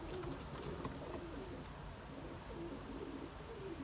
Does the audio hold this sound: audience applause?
no